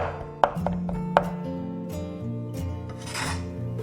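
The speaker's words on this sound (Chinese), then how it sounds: "稍微再给它剁细一点点。" A knife mincing soaked shiitake mushrooms on a board, with a couple of sharp, distinct chops followed by quicker scraping, rubbing strokes, close up and with no talking.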